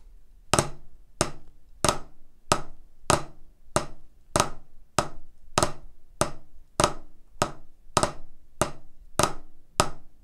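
Drum flam and double-stroke warm-up pattern: close, crisp strokes land at a steady, moderate pace, about fifteen sharp hits with short decays and no talk.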